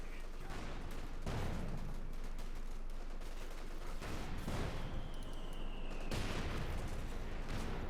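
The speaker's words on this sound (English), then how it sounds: "Bit of shooting there" Rifle and machine-gun fire in a Company of Heroes 2 battle between Wehrmacht and US forces, with several sharp volleys and bursts popping at a moderate distance over a steady ambient battlefield bed.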